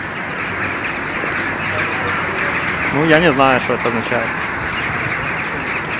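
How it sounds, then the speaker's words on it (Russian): A large flock of crows circles over the Mystetskyi Arsenal, their cawing a noisy outdoor wash that peaks in a burst of calls midway, with someone talking over it. "огромная стая ворон"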